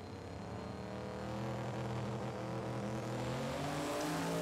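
Outlaw 10.5 drag race cars at Calder Park, including a boosted six-cylinder, accelerating hard with a loud, rising engine roar that builds steadily over the whole clip.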